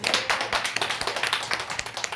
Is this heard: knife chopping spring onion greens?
no